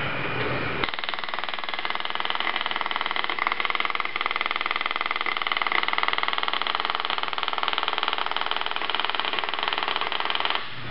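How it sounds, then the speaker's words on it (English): A pump pulsation test jig with a pressure gauge and a PulsePlus snubber on an MS8 unit starts up and runs, giving a steady loud mechanical drone with a rapid buzzing pulse that holds evenly until it stops near the end. "We're going to turn this jig on again so you can see how this unit, this MS8 with the PulsePlus unit actually slows the pulsation down"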